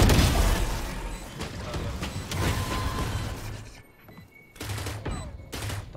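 Rapid bursts of gunfire in the tactical shooter Valorant crack out loud and dense, with a brief lull near the end before more shots resume in short volleys.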